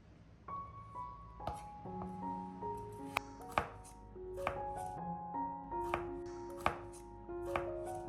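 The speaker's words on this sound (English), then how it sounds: "slice them into 1 centimeter thick pieces, and cut them into small cubes" A knife chops potatoes into small cubes on a cutting board, giving a series of crisp, irregular blade knocks against the board, close and clear over quiet background music.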